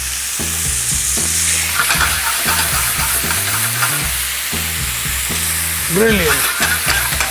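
Chicken frying and being stirred in a pan with a Goan cafreal marinade, a steady close sizzle with scraping stirs throughout, plus a brief spoken word and faint background music.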